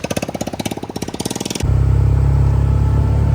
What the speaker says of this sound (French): Lui je crois qu'il a de l'eau dans son moteur les gars. Ça sonne bizarre.